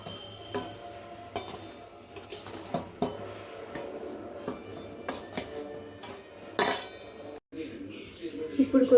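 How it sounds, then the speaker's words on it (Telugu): Amla pickle is stirred with chili powder and salt in a metal vessel, making repeated clinks and scrapes of a spoon against the pot in an uneven rhythm, with faint background noise. "ఇది ఇలా మంచిగా కలుపుకోవాలండి"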